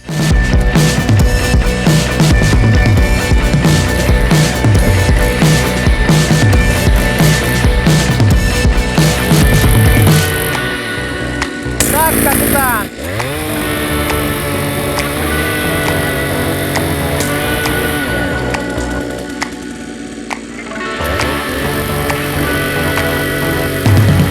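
A GTM AG52H-D petrol earth auger engine drills into soil with a loud, steady, close motor drone. Its pitch and load shift around the midpoint, and it briefly dips before settling into a continuous running note. No one talks.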